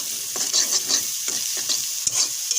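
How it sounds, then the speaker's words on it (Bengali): Turmeric and salt fry in a pan, a steady hiss of sizzling broken by repeated scraping strokes of a spoon stirring, close and fairly loud. "হলুদটা ভালো করে ভাজা ভাজা করে নিই"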